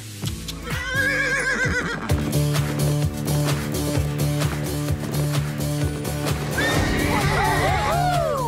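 A horse whinnies loudly near the start and again near the end, with music and other sounds playing throughout.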